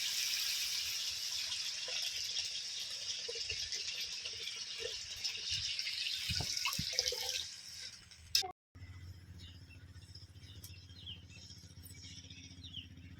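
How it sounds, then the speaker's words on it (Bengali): Water trickles and splashes steadily as it is poured into a fish curry masala for hybrid magur, with stirring, continuous for about eight seconds before a brief break and a quieter low simmer-like hiss. "অল্প জল দিয়ে একটু নেড়ে নেব মশলাটা"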